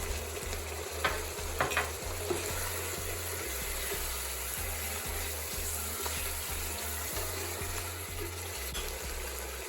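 Chicken frying in oil with green chillies and garam masala for a chicken pulao, a faint steady sizzle with occasional stirring scrapes and a low mechanical hum underneath.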